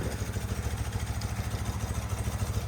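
A motorcycle engine that sat unused for over 20 years idles with its carburetor synchronization set, a low, steady, rhythmic throb with a slight clatter, moderately quiet and alone.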